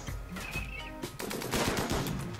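Gunfire in the RimWorld video game: a rapid series of sharp shots in quick bursts, fairly quiet overall, with a thicker cluster of cracks toward the end.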